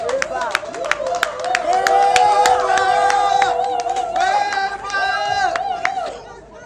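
Clapping and crowd noise at a celebrity awards event in Lagos, scattered claps among lively chatter, shouts and cheering, with voices talking throughout.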